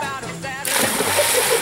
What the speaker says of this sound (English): One, two, three. Splash!